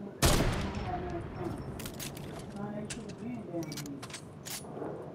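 In the Fortnite video game, a sharp gunshot cracks loudly, followed by scattered fainter shots and clatter while people talk over the action.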